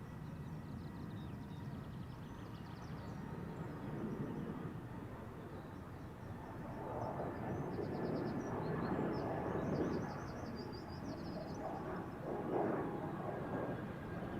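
An Air Baltic airliner departs a busy runway at Amsterdam Schiphol in windy conditions, a steady distant jet roar swelling and fading over about fourteen seconds with gusty background noise.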